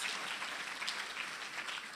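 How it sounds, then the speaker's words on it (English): Conference audience at a deep learning event gives a faint, steady round of applause for a speaker, a soft continuous patter heard from a distance. "Please help me in thanking Dr. Ayoko with a round of applause."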